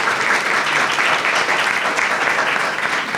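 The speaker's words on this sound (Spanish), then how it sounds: "Aplaudan." Sustained audience applause after a talk at a conference session on generative AI and authorship, loud, dense and steady throughout with no voices.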